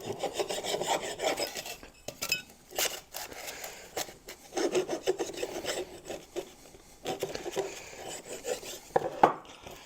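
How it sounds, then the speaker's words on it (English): A hand file deburrs freshly drilled holes in a DIY battery box, rasping in repeated close strokes with short pauses between bursts and no talking. "Let's get our file back out and just kind of deburr it a little bit."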